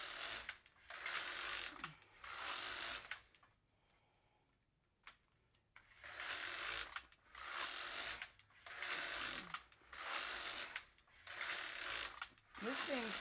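Brother KX350 knitting machine carriage sliding back and forth across stockinette rows, a regular series of loud ratcheting, clattering passes with a short pause in the middle, close and without talk.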